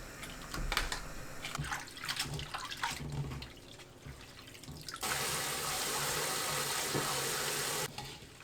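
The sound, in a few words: rinsing blanched scallions under cold running water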